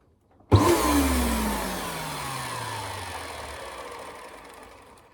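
A Dyson DC14 vacuum cleaner motor starts abruptly and runs loud, settling into a steady whirring drone with a falling whine that slowly tapers off; the motor sounds unhealthy.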